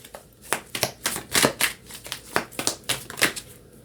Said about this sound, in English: going to pull three tea leaf fortune cards for you